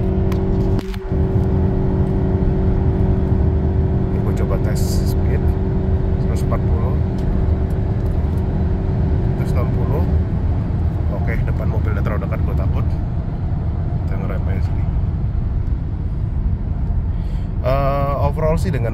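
A Toyota Camry Hybrid on Dunlop LM705 225/55/R17 tyres accelerates hard at speed, a loud, steady engine and road roar with wind noise filling the cabin, while people talk over it throughout.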